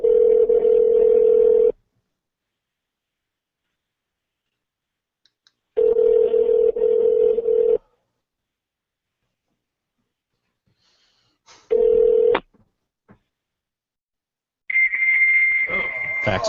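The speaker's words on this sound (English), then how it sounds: "Fax machine." A phone call lands on a fax machine, producing long steady tones in repeated blocks separated by silence, followed by a higher, more garbled tone burst at the end.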